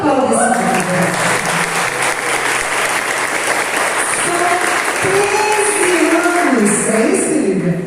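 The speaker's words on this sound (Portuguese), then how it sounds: "Aplauda esse grupo." A congregation at a youth prayer group's anniversary gathering breaks into loud, sustained applause lasting the full stretch, with music or voices faintly underneath.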